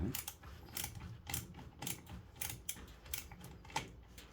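A size 13 ratchet spanner tightens a boiler circulation pump fitting, producing a quick run of faint, close ratcheting clicks in short bursts with no talking.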